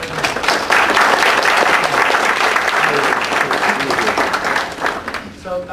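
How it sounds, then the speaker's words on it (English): Applause from the audience at a Chicago game developer panel, a dense and steady wash of many hands clapping at once, loud and sustained for several seconds before easing slightly at the end. "So these guys definitely deserve an applause."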